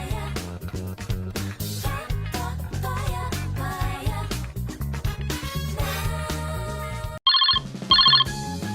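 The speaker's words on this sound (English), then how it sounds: "It's just my telephone." A phone ringtone chirps in two quick bursts near the end, cutting through loud music that drops out just before the ringing.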